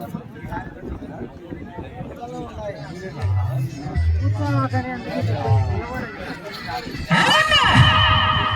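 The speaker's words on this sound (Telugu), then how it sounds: "జనాలు గట్టిగా కేకేస్తా చివరికి వెళ్ళిపోతామని." A crowd at a bull cart race in YSR Kadapa district shouts and cheers under close commentary. The voices grow louder toward the end in a sharp burst of yelling.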